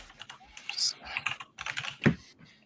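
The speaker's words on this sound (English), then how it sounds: "My 144 letter Japanese keyboard" Fast clicking keystrokes on a 144-key Japanese computer keyboard, close and moderately loud, in irregular bursts with a few sharper clacks and brief pauses.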